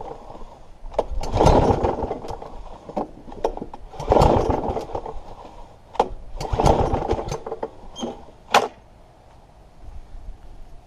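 A Briggs and Stratton SV150 engine on a Sovereign lawnmower being pull-started after priming and refusing to fire: three long cranking bursts, then a few shorter pulls that die away with no catch.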